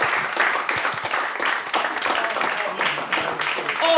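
Audience clapping at a comedy roast battle, a dense, even patter of many hands that continues for the whole few seconds.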